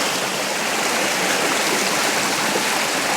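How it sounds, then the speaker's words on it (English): A small waterfall on a feeder creek pours in a dense, steady rushing hiss, close and loud, with no pauses and no voices. "I've moved closer to the little waterfall here, or the feeder creek or feeder stream"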